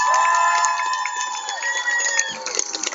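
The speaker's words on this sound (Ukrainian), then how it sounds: "Давайте ми дамо трошки овацій" Festival crowd ovation for a drummer at an open-air concert: cheering and shouting voices rise over sustained tones, loud and fairly near, with some clapping mixed into the roar.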